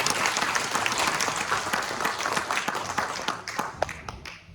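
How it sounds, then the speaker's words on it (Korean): Welcoming applause from an audience in a large parliamentary library auditorium during a constitutional reform debate, steady dense clapping that carries throughout and gradually thins toward the end. "환영의 박수 부탁 좀 드리겠습니다."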